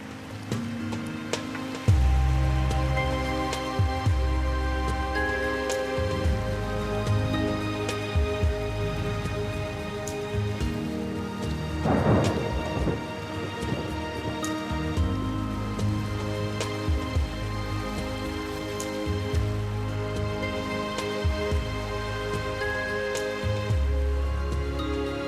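A rainstorm on one of the Bissagos Islands off West Africa pours down as a steady, even hiss over a low, pulsing rumble that runs throughout, with no voices.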